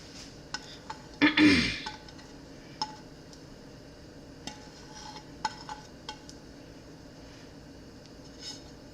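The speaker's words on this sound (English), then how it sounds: "I grated my butter, and I'm going to mix it into my flour." Grated butter being mixed into flour in a large bowl, heard as scattered light clinks and taps of a utensil against the bowl, with one louder scraping clatter early on and quiet gaps in between.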